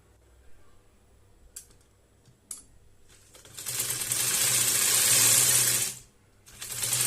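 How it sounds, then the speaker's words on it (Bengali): A sewing machine runs a pressed topstitch along a dress sleeve: a few sparse clicks and taps, then a loud continuous mechanical whir for about two and a half seconds, a short pause, and the stitching starting again, with no talk. "এই যে চাপ সেলাই দিয়ে হাতাটা রেডি করে নিতেছি।"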